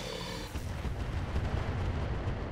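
Sticky bomb detonating in the mech combat game RogueTech, a deep rumbling blast that swells and rolls on as a low, heavy boom without any talking.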